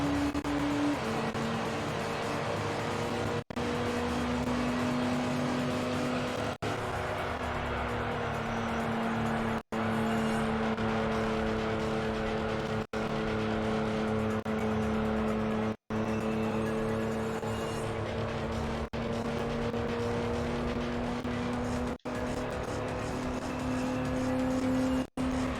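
A racing car engine in the Gran Turismo 3 video game, an LMP Dragon, drones at high revs in fifth gear. Brief regular dips mark each shift before the pitch climbs again, loud and continuous with no talking.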